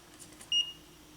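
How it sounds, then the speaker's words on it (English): A multimeter gives one short, clear electronic beep during a continuity test while repairing an Advent 1 stereo speaker, with a quiet background before and after. "if there's a connection, I'll get that audible beep"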